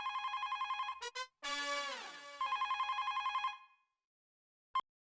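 Telephone ringing indoors with a bright electronic trill, repeated in fast pulsing bursts, broken by a short sweeping tone in the middle, then stopping, followed by one brief final chirp.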